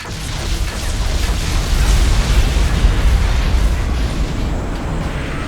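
A door-breaching blast from the game Unlimited Alien Rage: a loud, sustained rumbling explosion with heavy low-end boom that holds steady for several seconds before easing slightly.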